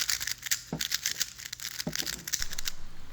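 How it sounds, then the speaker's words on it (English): Plastic Pyramix speedcube pieces are crunched between teeth, giving faint, close crinkling and cracking sounds with a few sharper snaps amid a muffled, noisy background. "This is the sound of my crunching."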